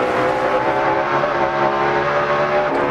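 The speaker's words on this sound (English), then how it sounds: "Listen, a little burst of RPM out of the engine." A NASCAR race car engine at the 2004 Sharpie 500 gives a short, loud burst of high revs, a steady buzzing roar held for about three seconds.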